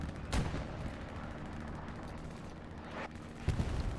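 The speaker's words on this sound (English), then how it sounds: "Satchel goes off just outside the house. Artillery coming down." Artillery shells and a satchel charge going off in a World War II shooter video game, with sharp loud blasts near the start, around three seconds and again just after, over a steady low rumble of battle.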